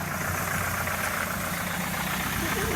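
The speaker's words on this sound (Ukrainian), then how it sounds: "Все, тачка виїжджає." A Nissan X-Trail engine runs steadily as the car pulls out of a workshop, a broad, even mechanical drone at moderate level with no talking.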